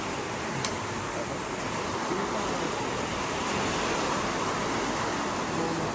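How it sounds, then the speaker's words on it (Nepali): A heavy downpour in New Zealand makes a constant, even roaring hiss that holds steady throughout, with no clear voices over it. "पानी पनि के साह्रो आएको छ आम्मामा"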